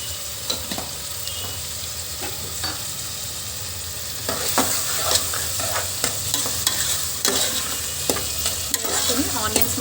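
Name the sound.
onions frying with turmeric for chicken curry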